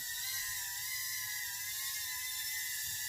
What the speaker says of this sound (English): Just going to try to fly it around until it dies though